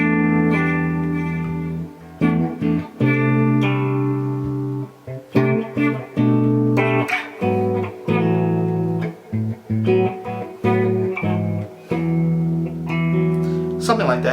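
Electric guitar plays a passage through effects, with sustained legato notes, slurs and short pauses between phrases, clear and up close with no talking.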